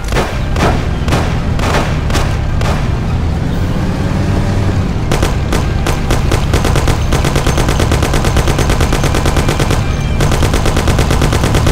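Thompson submachine gun firing in a Mafia game: long, loud continuous bursts of rapid automatic fire with a few separate single shots early on, all dense and near, without speech.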